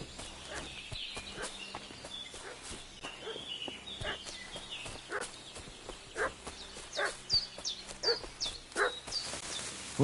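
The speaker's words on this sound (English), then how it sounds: "What's that dog making such a fuss about?" A dog barks repeatedly at a distance in the medieval video game Kingdom Come Deliverance 2, with irregular bursts over ambient outdoor sounds and what may be hoofbeats.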